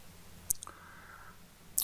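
Two sharp, faint clicks of a computer mouse pressing the Zoom join button, spaced more than a second apart, with a thin tone sounding between them in an otherwise quiet room.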